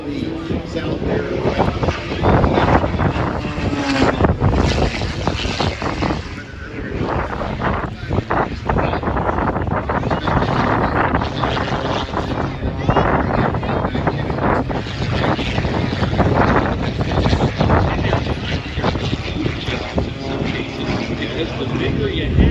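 An aerobatic airplane performs at the EAA AirVenture Oshkosh airshow on a windy day, its engine a steady loud roar mixed with wind buffeting the microphone while people talk.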